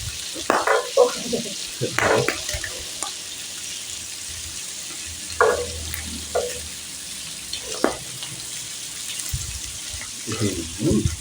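Pork sizzling and splattering on a hot Thai grill pan, a faint background hiss under intermittent talking, with occasional crackles between the voices.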